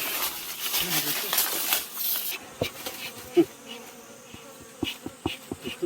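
Honeybees buzz steadily around a hive at a rural honey harvest while smoke calms them, a continuous insect drone with scattered clicks and knocks as people talk nearby.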